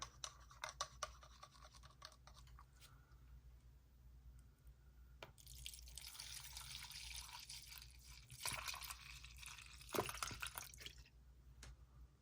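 Singer 401A sewing machine camstack metal parts lowered into Crud Cutter cleaning liquid, giving faint, close clicks, scratches and soft liquid swishes and drips.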